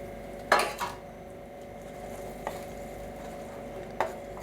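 A few scattered metallic clinks of a spoon against a pot of curry leaf gravy, one sharper at the start, then quiet stirring with long gaps between knocks.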